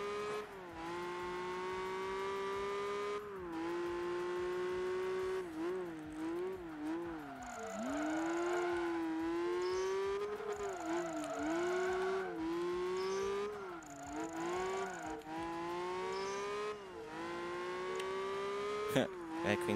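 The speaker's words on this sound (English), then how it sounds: "Okay, finally we recognize the e-brake slide." Race car engine in Project Gotham Racing 3 revving and shifting through an e-brake slide, the loud tonal whine rising and dipping with brief tire squeal bursts, continuous throughout with no talk.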